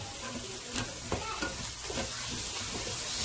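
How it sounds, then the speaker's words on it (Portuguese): Steady sizzling of onions frying in a pan beside chicken breast, with scattered scraping and stirring clicks over a constant hiss. "Vamos passar bem a nossa cebolinha aqui entre o vão da onde ficou o nosso franguinho, né? Fritando."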